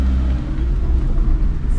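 A car pulling away from the Seetharkundu viewpoint near the Pops group estate at Nelliyampathi, Palakkad, with a steady low engine rumble held close and continuous throughout.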